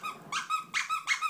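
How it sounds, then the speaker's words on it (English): Squeaky dog toy squeezed four times in quick succession, each one a sharp, close, high-pitched squeak in a quiet room. "yeah, it's a squeaky, but what the hell, Martha Stewart?"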